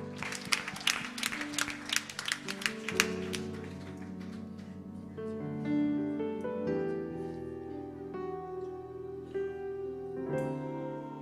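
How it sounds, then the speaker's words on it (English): A church congregation claps in time, sharp rhythmic hand claps over the first few seconds before they fade into sustained organ-like music and singing. "And clap your hands unto the Lord."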